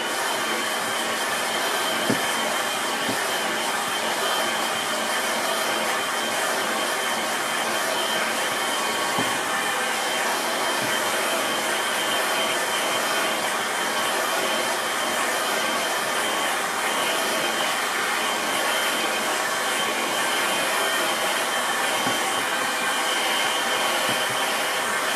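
A hair dryer blows over a watercolour painting with a continuous, even, close whirring hiss that holds steady throughout.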